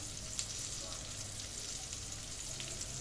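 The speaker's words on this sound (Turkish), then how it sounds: "Bakın ne kadar güzel kızarıyor" Anchovies frying in a pan give a steady, close crackling sizzle that holds evenly throughout, with soft stirring-like textures mixed in.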